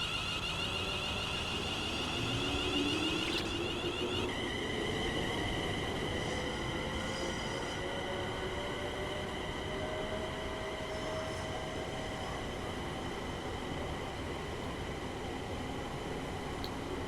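A Class 380 electric train in SCR livery on the Neilston to Glasgow Central run in a train simulator game gives a steady loud rolling rumble with a rising motor whine and high electrical tones, continuous and without talk.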